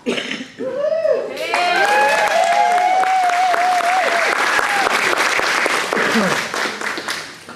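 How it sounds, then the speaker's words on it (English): An audience at a senior women's pageant in Hopkins County gives loud, sustained applause for the contestants, with dense clapping and a few whoops and cheers over the top. "give them a great round of applause"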